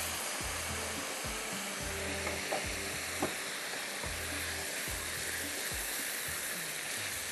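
Chicken fries in a pan with a loud, continuous close sizzle and hiss, broken by a few faint utensil clicks and stirring scrapes.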